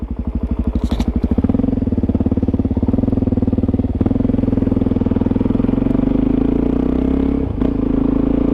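A Suzuki DR-Z400SM dual-sport motorcycle engine thrums loudly and steadily up close as the rider modulates the throttle through a wheelie, with a brief rev flare near the start and a short dip toward the end.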